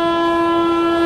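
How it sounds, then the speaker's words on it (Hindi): Howrah–New Delhi Rajdhani Express (12301) passing close by while overtaking the Magadh Express, a loud sustained multi-tone train horn blaring steadily over rumbling rail noise, heard from the slower train. "अपनी मगध को ओवरटेक करने 12301 हावड़ा नई दिल्ली राजधानी एक्सप्रेस"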